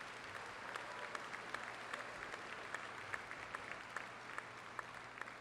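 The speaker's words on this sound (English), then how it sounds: "Let's have one more round of applause for all of our award winners." Steady applause from an audience at the Ivy Tech Community College Richmond 2019 commencement, honoring award winners, with dense clapping at an even level throughout and occasional sharper claps standing out.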